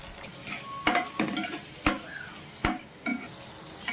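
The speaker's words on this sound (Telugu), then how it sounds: "చక్కగా ఇదంతా వేయించుకుందామండి" Boiled peanuts with cumin and turmeric frying in a pan for lemon rice, a soft sizzle broken by several sharp spatula stirs and scrapes at irregular intervals.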